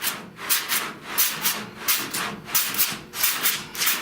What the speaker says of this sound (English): So all I gotta do is sand this, and the thing is, guys, I'm doing this with 36 grit.